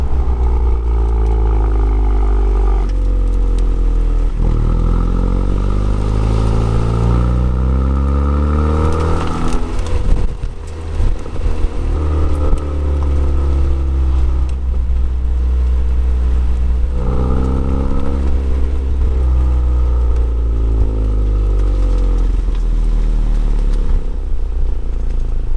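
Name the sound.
Honda Civic Type R with Remus exhaust revving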